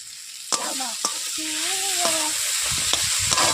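Ground cumin and coriander fry in a pan of mixed potato, eggplant and bitter gourd sabji, giving a loud, close sizzle punctuated by sharp spatula clicks and scrapes as it is stirred, with no speech.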